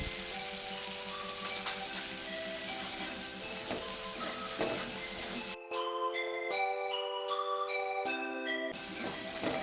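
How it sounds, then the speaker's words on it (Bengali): Shrimp curry with green jackfruit (echor chingri) sautéing in a pan, a steady close sizzle and frying hiss running throughout with a short gap midway, no talk over it. "এইভাবে আমি 5 মিনিট কষাবো"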